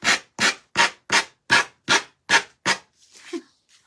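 Hand sanding with a grabbed sheet of sandpaper of unknown grit on a craft piece, eight brisk even strokes in steady rhythm, close and fairly loud, then a few faint scrapes and bumps as it stops.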